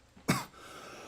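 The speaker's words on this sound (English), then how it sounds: "I've coughed more than I've spoke now" One sharp, close cough bursts out in a quiet room during a live football watchalong stream, then fades into low background hiss.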